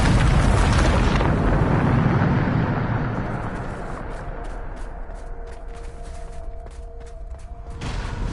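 The Bombarda blasting spell from the video game Hogwarts Legacy explodes in a loud, broad boom that rumbles and slowly fades, with faint crackling debris as it settles.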